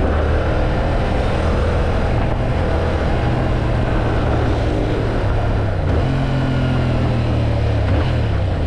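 A Yamaha MT-07 motorcycle engine on an open road produces a steady, loud, low drone with constant wind rush, its rumbling pitch shifting slightly as the bike rides along, with no talking.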